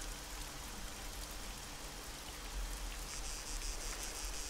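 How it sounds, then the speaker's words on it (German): Steady rain hisses across an Arma game server map on spawning in Kavala, a dense continuous patter that stays even throughout with a slight brightening near the end. "Wir spawnen hier bei munterem Regenwetter."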